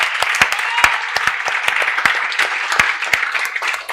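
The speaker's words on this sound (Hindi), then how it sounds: "मैं चाहती हूं आप लोग अपने लिए एक बार जोरदार तालियां बजा दो यार।" Students in a chartered accountancy law lecture give themselves a loud round of applause, a close, dense patter of clapping with a voice faintly present underneath.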